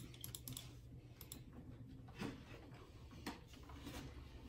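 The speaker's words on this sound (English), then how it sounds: "If I type in mole." Soft, quick keystrokes on a computer keyboard tap in irregular bursts during an online card-game session, faint and close with no talking.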